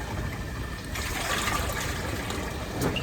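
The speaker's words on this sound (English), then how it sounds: "I'm gonna filter it. This is just a sap." Maple sap poured through a filter in a backyard, a steady close trickle and splash of liquid running for a few seconds.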